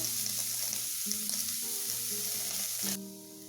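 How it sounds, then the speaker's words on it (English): Onions and curry leaves sautéing in a pan give a loud, continuous close sizzle and crackle with faint stirring, the frying dropping off abruptly near the end. "Saute this. It just has to turn translucent, that's all."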